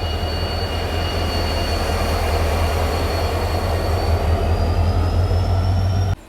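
The Dibrugarh Rajdhani Express, hauled by a WAP7 electric locomotive, rumbles past loud and close in a steady roar with a thin high whine above it, then cuts off abruptly at the end.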